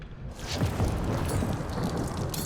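A thunderstorm rumbles in the video game Guardians of the Galaxy, with a dense, continuous roar of heavy rain and low rolling thunder at steady loudness throughout, no voices.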